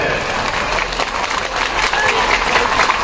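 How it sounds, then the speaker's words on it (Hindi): A crowd at a women's rights political rally in Siwan, Bihar claps in a continuous, dense burst of applause that holds steady and loud throughout. "जोरदार ताली बजा करके इनका स्वागत करिए"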